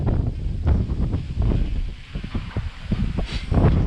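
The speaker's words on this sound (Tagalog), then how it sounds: "lakas ng hangin" Strong outdoor wind buffets the microphone during a DJI Mini 3 drone flight, a loud, gusting low rumble that surges and eases unevenly throughout.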